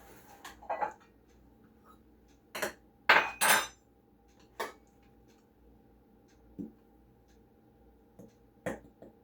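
Flour measured by the cup into a bowl for homemade pizza dough, heard as scattered close taps, scoops and clinks of the cup against the bowl, sparse and fairly quiet with pauses between.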